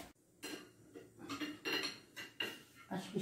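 Cutlery and dishes clink repeatedly at a home lunch table with pasta, spoons scraping and tapping plates in irregular bursts, close and fairly clear with no voices.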